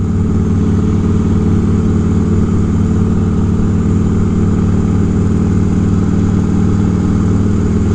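A motorcycle engine runs steadily at idle, close and loud, with a constant low throbbing rumble and no change in revs.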